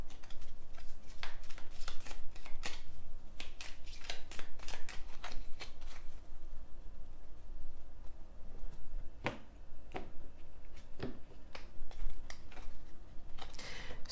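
Tarot cards are handled and shuffled at close range, a steady run of crisp slaps and riffles in quick bursts, thinning to sparser flicks and taps in the second half.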